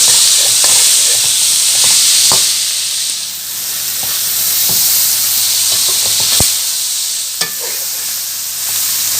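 Green chillies and tomatoes stirred in a hot pan, a loud continuous sizzle with scattered close scrapes and taps of the spoon against the metal.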